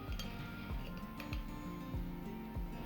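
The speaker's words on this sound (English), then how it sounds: "I will stir my wax and fragrance oil together for at least 1 minute" Candle wax and fragrance oil stirred together in a container, giving light repeated clinks and taps of the stirrer against the sides over a dense background, close and steady.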